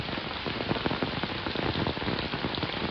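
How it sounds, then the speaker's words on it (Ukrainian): Steady rain pours down nearby, a dense patter of drops drumming on a surface with no voices, constant and even throughout. "А отак от один хоча б дощик такий, он як тече."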